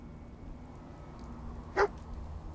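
Dogmeat the dog in the Fallout 4 video game lets out a single short bark over quiet ambient background.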